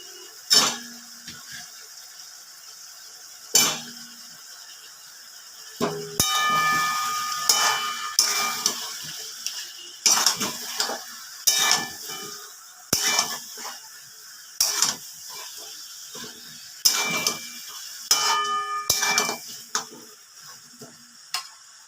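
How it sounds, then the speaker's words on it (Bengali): Potatoes go into a pot of cooking mutton amid sharp clanks and scrapes of a utensil against the pot, over a faint sizzle, in irregular bursts. "এবার আমি দিয়ে দিচ্ছি আলু।"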